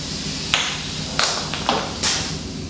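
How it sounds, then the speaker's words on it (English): A 3D print in eSun hard tough resin is dropped onto a floor and bounces, giving four sharp, separate clacks and taps about half a second apart. It is close and fairly loud, with a low steady hum underneath. "let's do a third and final drop test"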